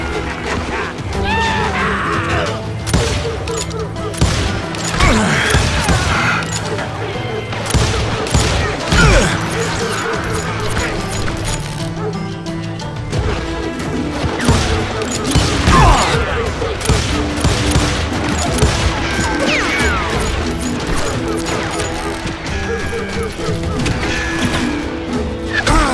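Rapid gunfire in a Wild West shootout from the video game Call of Juarez, dense overlapping shots and impacts in a continuous loud barrage lasting throughout, with game sounds layered over it.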